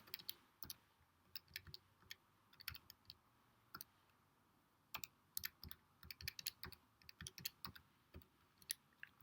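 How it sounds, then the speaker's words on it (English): Calculator keypad being tapped while entering a long trigonometry calculation, irregular bursts of quiet plastic clicks and taps with short pauses between them, heard close in an otherwise quiet room with no talking. "Type all that into my calculator."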